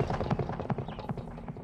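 Quiet rhythmic clip-clop of horse hooves at a running pace in the video game Weird West, a steady galloping patter with a low background hum.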